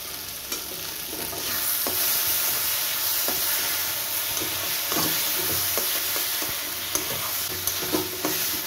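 Spiced masala frying (kasha) in a covered pan, a steady close sizzle and hiss with repeated scrapes and knocks of a spoon stirring through it, no talking.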